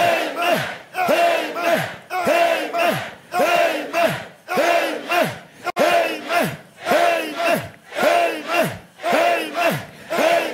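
A church congregation shouts amen in rhythmic unison, a repeated chant-like roar rising and falling in waves, loud and reverberant, with no single voice standing out.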